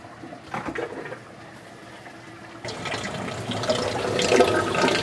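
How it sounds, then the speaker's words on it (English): Water gurgles and rushes as it drains out of an aquarium algae scrubber, starting softly and swelling into a steady louder trickling flow, with no speech. "that gurgling noise is the drain out of the scrubber"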